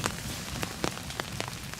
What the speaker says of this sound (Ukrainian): Що дощик іде.